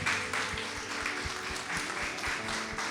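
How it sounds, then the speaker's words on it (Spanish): Steady applause from a church congregation, moderately loud, with a faint musical hum and low thumps underneath. "vamos a darle un aplauso al Señor por nuestras visitas"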